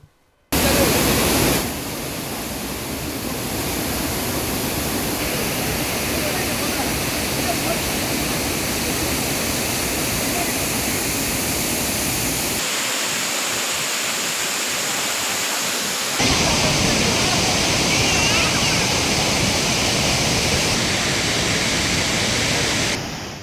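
Courtallam's main waterfall in flood after heavy rain roars as a dense, steady rush of falling water that fills the whole stretch without pause, with a short gap and a shift in level partway through.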